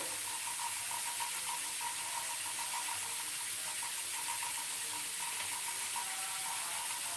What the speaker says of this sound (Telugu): కొద్దిగా బ్రౌన్ వచ్చే వరకు వేయించాలి